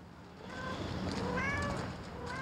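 A phone ringtone imitating a cat's meow and purr plays indoors, soft repeated mewing tones rising over a low rumbling hum across a few seconds, with no one speaking.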